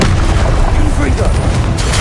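The Confringo fire spell from Hogwarts Legacy goes off as a loud, dense burst of booming blast noise in the middle of battle, with a voice speaking briefly over it.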